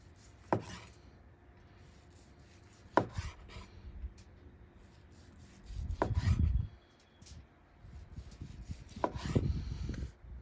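A knife slicing smoked chicken across the grain on a wooden board, four distinct cutting strokes spaced a few seconds apart with softer rubbing and sawing sounds between them, close and alone.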